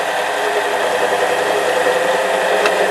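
A high speed steel parting tool cuts into a workpiece on a lathe with coolant, giving a steady, loud grinding chatter with a constant machine drone and a faint squeal near the end.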